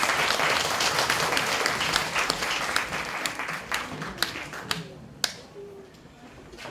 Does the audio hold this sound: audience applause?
yes